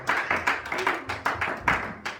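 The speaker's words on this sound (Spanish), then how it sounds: "Un aplauso para el Señor." A church congregation applauds, a warm, fairly soft burst of many hands clapping together that swells in irregular pulses over a couple of seconds, with no voices clearly heard.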